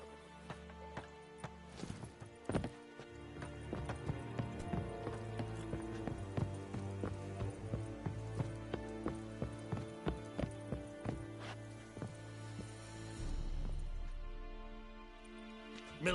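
Roach the horse in The Witcher gallops, a distinct rhythmic series of hoofbeats that repeats steadily at a moderate level, then trails off into a softer low rumble.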